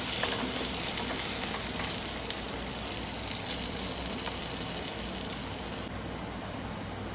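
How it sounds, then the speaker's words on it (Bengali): Potato pieces frying in hot oil with turmeric, giving a dense, continuous close sizzle and crackle that stays loud and even throughout, with no voices. "আলুগুলো কি সুন্দর লাল লাল করে ভাজা হয়ে গেছে"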